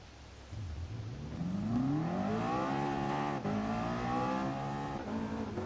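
A McLaren road car's engine revs in GT Sport, pitch climbing steadily from a low idle into a strong sustained high-revving drone with rich harmonics, briefly dipping at a shift before holding loud and continuous.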